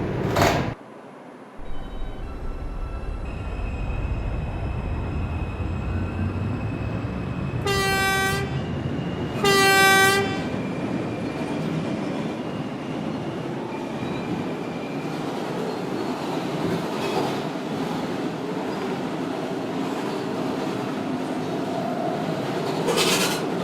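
An R142 subway train on the New York 2 line runs between stations toward Wakefield, a loud rolling rumble of wheels on track with two short horn toots partway through and a squeal of rail noise near the end.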